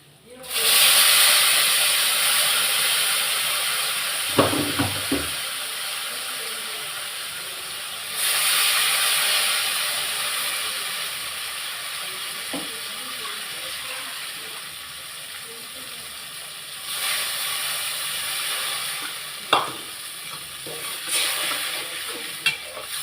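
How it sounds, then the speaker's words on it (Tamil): A pot of tamarind mixture bubbles and hisses steadily close by, with a few sharp clinks and stirring sounds rising over the constant simmering. "எப்படி கொதிக்குது பாருங்கள்."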